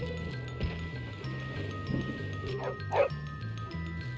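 A dog in the video game Bully barks and yelps while chasing, a few short yips midway over a looping game music bed, moderately loud.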